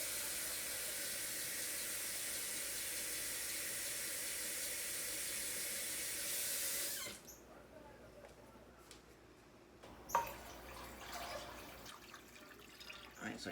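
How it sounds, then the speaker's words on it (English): Steady broadband rush of tap water pouring into a soup pot for about seven seconds, then cutting off, followed by quieter clinks and handling sounds. "3 to 4 cups more of just plain water."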